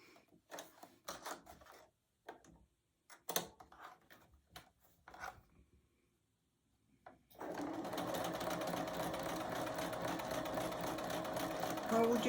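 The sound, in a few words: sewing machine stitching a quilt seam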